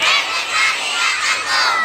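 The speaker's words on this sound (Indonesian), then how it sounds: "Mana teriakanmu?" A class of primary school children at an end-of-year school arts show shouts loudly in unison, a sustained, rising crowd roar of young voices answering their teacher's call, with no single voice standing out.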